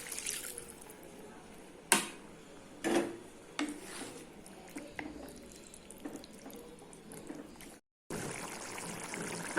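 Water pours into a pan of prawn gravy and splashes, then settles into a steady bubbling simmer with occasional clinks and scrapes, close and moderately loud with no speech.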